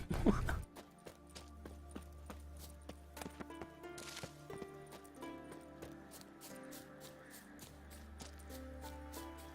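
A horse trots in The Witcher 3: Wild Hunt, its hooves clip-clopping in a steady, even rhythm at moderate volume, with soft game music running underneath.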